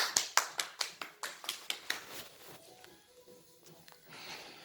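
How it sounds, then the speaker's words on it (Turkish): About nine sharp claps in a steady rhythm from what sounds like one or two people at close range, during a home quiz game, fading into quiet room noise. "Alkış."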